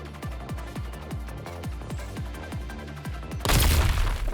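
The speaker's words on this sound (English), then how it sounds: "More explosions, Captain!" Game explosions from Punishing: Gray Raven: a run of repeated booming hits with falling low thuds, ending in a loud, sustained blast that swells near the end.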